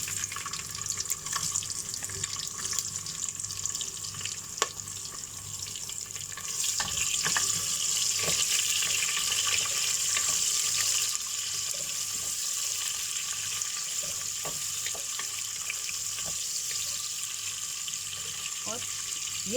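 Onions fry in a pot with whole garam masala for a mutton stew. A continuous, dense hiss and crackle of sizzling runs throughout, close and steady, with occasional stirring clinks.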